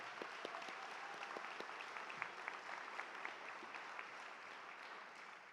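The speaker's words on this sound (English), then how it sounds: "That is worthy of a round of applause." A large audience at a winter commencement ceremony gives a round of applause, a steady wash of many hands clapping with a few sharper claps standing out, fairly distant and soft.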